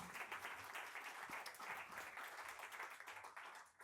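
Audience applause at a French pitch event, steady broadband clapping held at a moderate level for about four seconds and tapering slightly at the end.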